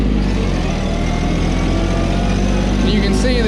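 Mahindra 1626 shuttle tractor engine pulling in fourth gear, a steady loud mid-pitched drone held throughout, with a brief higher whine near the end.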